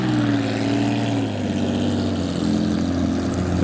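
Lamborghini Murcielago and Porsche 911 sports cars, loud close droning engine noise with a low steady tone sliding slightly in pitch, continuous and without talk.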